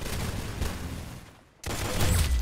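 Gunfire in the online shooter game Arsenal, a dense burst of rapid shots with booming low end that drops out for a moment, then resumes loud and steady.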